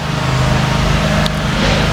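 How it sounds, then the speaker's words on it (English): A lawnmower engine drones steadily in the background outdoors, a continuous low rumbling hum with no pauses and no speech. "You can hear the lawnmower in the background."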